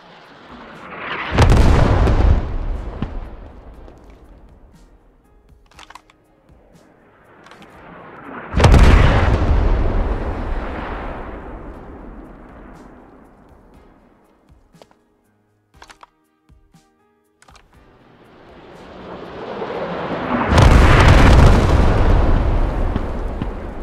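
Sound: artillery strike explosions in the video game Squad

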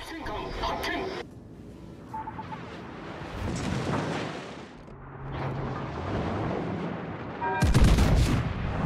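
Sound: ship gunfire in a naval video game

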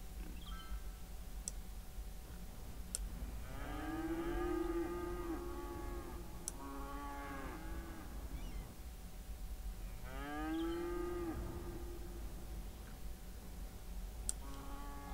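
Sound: Highland cattle mooing in the video game Cities Skylines

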